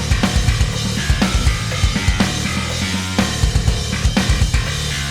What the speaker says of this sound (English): To save us some time, I've already made the drums and bass for the track,